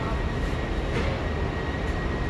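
Inside a fast train running from Malpensa toward Milan at around 140–150 km/h, a loud, continuous low rumble of the carriage fills the space with steady rolling noise and a faint high whine, with no talking.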